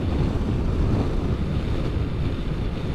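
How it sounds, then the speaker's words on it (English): Wind buffets the rider on a highway aboard a Kawasaki H2 SX SE motorcycle heading into a 20 to 30 mph headwind, producing a loud, continuous low roar with no talk. "We have about a 20 to 30 mile an hour wind today, and it is so nice into the wind right now."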